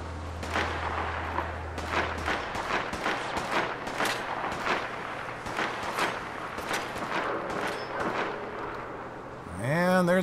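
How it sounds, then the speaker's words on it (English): A machine gun turret in the video game Fallout 4 fires repeated sharp bursts with a loud rhythmic clatter over a low drone, which cuts off near the start. "There's another machine gun turret."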